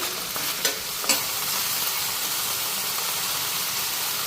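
Banana flower frying in a pan with ghee and garam masala gives a steady, close sizzle and hiss, with a couple of sharp stirring clinks near the start.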